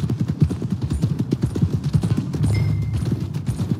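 Horse hooves clip-clopping at a steady walking rhythm in Red Dead Redemption II, close and continuous, heading toward a frontier stable with no talk over them.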